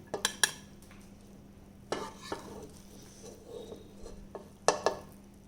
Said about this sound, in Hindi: हल्के हल्के हाथों से इस तरह से करके निकाला जाता है चावल को